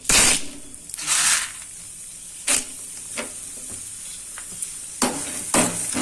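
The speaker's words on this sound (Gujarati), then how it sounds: "હવે આપણે હિમેજ તળી લેશું હિમેજ ફટાફટ તળાઈ જશે" Chebulic myrobalan (himej) fries in hot oil with a bright steady sizzle, broken by several sharp crackling bursts and stirring scrapes spread through the stretch.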